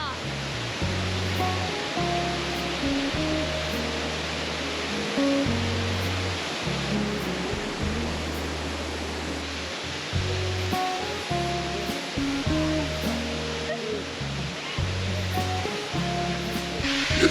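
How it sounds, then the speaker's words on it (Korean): A waterfall roars as a constant loud wash of rushing water, with low musical tones playing underneath throughout. "폭포 앞이에요"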